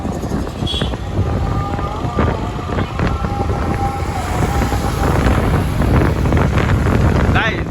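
A motorbike carries a pillion rider through a city's streets at night. Heavy wind buffets the microphone over a low engine rumble, loud and continuous for the whole ride.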